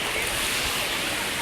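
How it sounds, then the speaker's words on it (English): Waimea Falls on Oahu, Hawaii, gives a steady broadband rush of falling water, loud and continuous over a short span with no break. "look at the waterfall"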